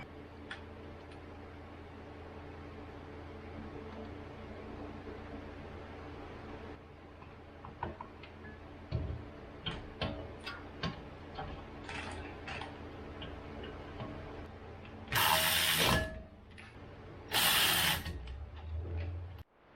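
Rear electric parking brake motor on a B8 Audi S4 whirs in two short, loud bursts near the end while it retracts in service mode, after a stretch of faint ticks and small clicks.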